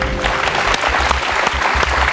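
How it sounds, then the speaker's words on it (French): A TV game-show studio audience applauds a contestant's correct answer with dense, loud, continuous clapping, with some low thumps underneath. "J'applaudis"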